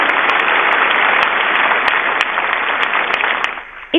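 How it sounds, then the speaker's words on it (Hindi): Loud, dense applause from a large crowd cheering for a group of children at a special event with Prime Minister Narendra Modi in Delhi, steady clapping filling the hall for several seconds before fading at the end. "एक बार जोरदार तालियां इन बच्चों के लिए"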